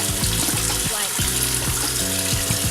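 Water and soap worked over shoes with a sponge, a constant loud wet wash with repeated scrubbing strokes, close up and with no voices.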